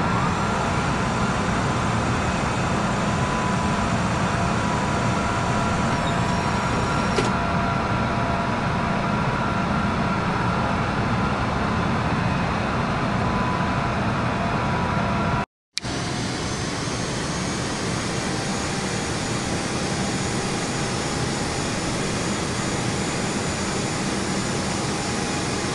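A jet airliner takes off with a steady, loud, roaring engine drone that holds through the whole stretch, broken only by a brief gap partway.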